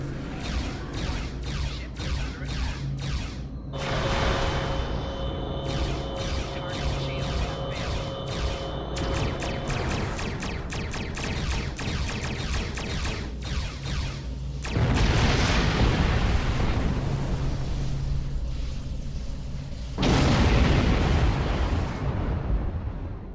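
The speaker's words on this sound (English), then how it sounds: "if you're too close to explosions, they will blow up your ship" Repeated explosions and booming blasts from space combat in the video game Star Trek Online, with loud bursts rising at intervals over a steady synthetic engine drone and layered effects.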